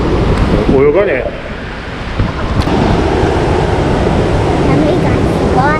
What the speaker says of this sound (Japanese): 波がすごいね。